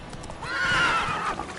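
A horse in the video game The Witcher 3 gives a short, loud whinny over the clip-clop of its hooves, lasting under two seconds.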